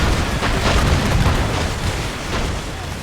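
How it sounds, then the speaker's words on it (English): Naval mortars booming from a sailing warship in Assassin's Creed Rogue, a dense, continuous roar of heavy blasts and rumbling explosions with no clear gaps, loud and close throughout. "Make good use of your own mortars."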